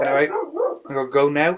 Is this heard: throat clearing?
no